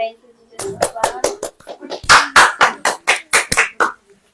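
Congregation clapping in a church prayer service to celebrate a member's recovery from fever, a series of sharp, loud, uneven claps spread over a few seconds, swelling briefly in the middle before trailing off.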